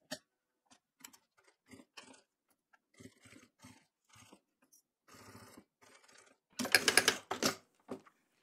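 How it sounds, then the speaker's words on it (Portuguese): A sewing machine stitching a 1 cm seam on a transparent waterproof travel toiletry bag, running in short, quiet bursts with pauses between, then a louder, longer run near the end. "vou trazer essa outra parte aqui e vou costurar com a margem de um centímetro"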